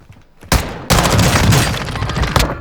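Loud, close bursts of gunfire from the video game Warzone 2 crack out after a brief quiet lead-in, then merge into a sustained, dense volley that fades slightly and ends with one more sharp shot.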